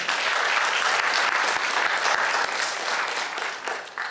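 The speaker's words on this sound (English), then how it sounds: "let's have a round of applause for our colleagues at AAAS" Sustained applause from an audience at the AAAS C.V. Riley Memorial Foundation lecture, steady dense clapping at close range that thins slightly toward the end.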